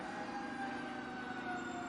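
A fire truck siren sounds steadily as it passes through a Christmas parade, its tones holding as a continuous wail, moderately far off, with crowd and street noise around it.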